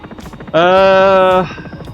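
A steady, buzzing Sikorsky S-76 helicopter engine drone in the X-Plane 11 flight simulator swells up suddenly, holds for about a second, then drops away, heard up close over faint background.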